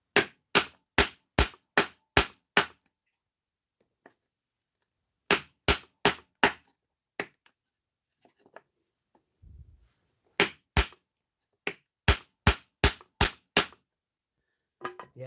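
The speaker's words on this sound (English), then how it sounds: "I might need a bigger hammer." Hammer blows on a bent Arrma Outcast 8S RC car chassis, loud sharp metallic strikes in rapid bursts of five to seven, with pauses between runs and a few isolated single hits.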